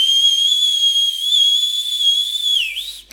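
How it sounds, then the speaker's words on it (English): A single shrill, sustained whistle holds one steady high pitch for about three seconds, then bends and dips before cutting off. Loud and close. "he suddenly whistled, a very shrill whistle indeed"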